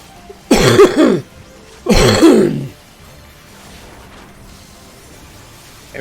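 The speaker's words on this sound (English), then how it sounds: "Everybody's coughing." Two loud, close coughs from people indoors, each a short harsh burst about a second long with a brief gap between, followed by a quiet room with low background hiss.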